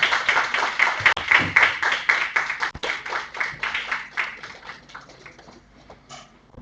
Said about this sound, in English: I think we should welcome dignitaries with a round of applause.